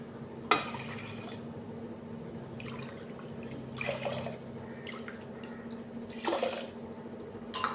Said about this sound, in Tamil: இதில் வந்து மூணு டம்ளர் நம்ம தண்ணி ஊற்றணும்